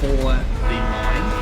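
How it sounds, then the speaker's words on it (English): A train passes in the video game Alan Wake Remastered, a loud steady rumble with horn-like tones and rail noise throughout, while someone talks over it briefly. "Oh no, that's a train."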